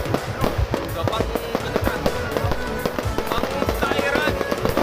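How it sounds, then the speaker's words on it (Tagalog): Fireworks bursting at a perya fair, heard as a rapid series of sharp cracks and pops over a steady crowd and ride noise, with voices mixed in. "So, medyo maingay. May fireworks."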